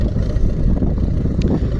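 A YuMZ-6 tractor engine runs on muddy ground after rain while loading manure, making a loud, steady low rumble with some wind buffeting mixed in.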